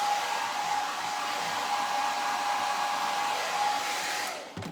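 A hair dryer blowing on freshly stained craft paint, a loud, steady whooshing whir held close for several seconds, then switched off abruptly at the end.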